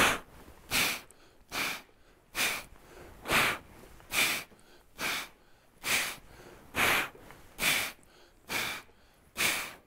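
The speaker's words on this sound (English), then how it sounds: "It would be exhale, exhale, exhale," A person doing a heavy club two-hand pullover squat gives a long series of forceful, evenly spaced exhales, about a dozen sharp breath bursts close to the mic with brief quiet gaps between them.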